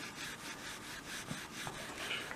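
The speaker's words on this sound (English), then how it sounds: "I like sanding on them and feeling the wood" Quiet, steady scraping strokes of sandpaper rubbing back and forth over wood, close by and alone, with a soft rhythmic rasp.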